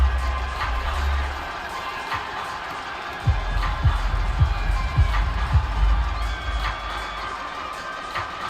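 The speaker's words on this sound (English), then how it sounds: "How about some applause for the defense there?" A crowd at a virtual USFL championship football game in Madden 22 cheers and claps in a steady, broad roar, with sharper thuds and swells partway through as the noise rises.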